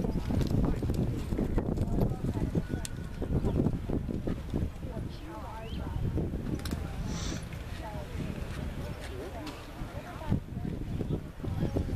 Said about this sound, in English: riders, walk your horses